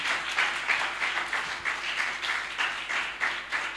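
A church congregation applauding, with steady, rhythmic clapping that pulses evenly and continues throughout at moderate loudness.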